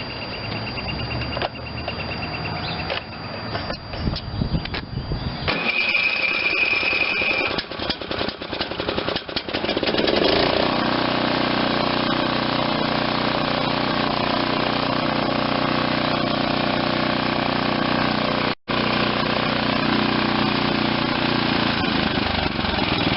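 A Briggs and Stratton 21M314 16.50 engine on an Ariens machine, just fitted with a new head and head gasket, cranks and sputters to life, then settles into a rough, loud, steady idle that runs on close by.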